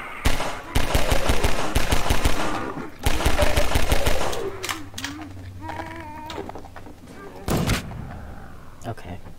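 Rapid automatic gunfire from the video game Half-Life 2, loud dense bursts of shots in two long volleys with a later short burst, mixed with game sounds and a few tonal effects in between.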